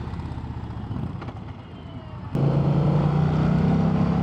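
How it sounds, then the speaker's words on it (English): A 2024 Indian Challenger motorcycle's stock engine idles with a throaty exhaust rumble, then the revs jump and it settles into a louder, steady drone. "the sound from the stock motor and exhaust"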